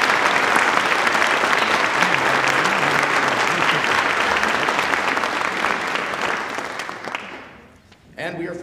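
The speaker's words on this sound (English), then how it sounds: "Would you please give these students a round of applause?" An audience at the James D. Ployhar Honor Band concert applauds the honor band students with dense, loud, steady clapping that fades out over the last second or two, followed by a brief voice.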